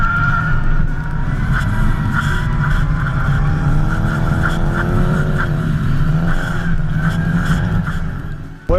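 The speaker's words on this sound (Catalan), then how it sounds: "frenamos un poco, hacemos un poco de balanceo y tiramos de freno de mano." A rally car drifting on a rally sprint course in Menorca, engine roaring at full throttle with the handbrake pulled. The engine note stays loud and sustained throughout, with rising and falling revs and no voices.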